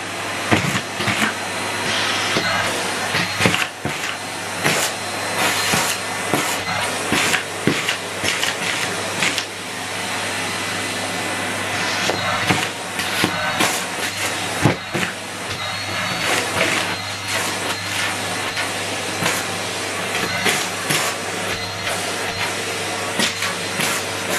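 A Numatic Henry Turbo HVT160 vacuum cleaner roars continuously up close while sucking up biscuits, its steady motor drone broken by crunching and rattling bursts.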